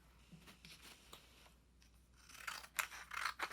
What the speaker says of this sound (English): First, I cut the paper in half.